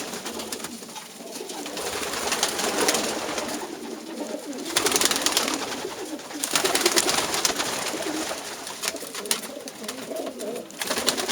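Racing pigeons of Sion bloodlines cooing in a loft, many birds murmuring and cooing together in overlapping soft waves, close and steady with no talk.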